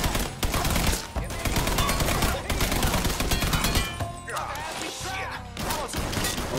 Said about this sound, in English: These automatics ain't got no type of grip on them, so they be going all over the place.